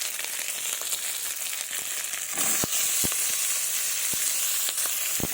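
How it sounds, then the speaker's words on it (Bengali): Chopped tomatoes hitting hot oil in a pan, a loud steady sizzle and crackle with sharp spattering pops scattered throughout, no voices. "আমি অল্প একটু তেল দেবো এবার দিয়ে দেবো টমেটো কুচি"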